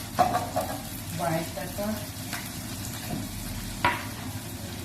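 Browned chicken frying in a pan with steady sizzle and occasional stirring scrapes, under a person talking while seasoning.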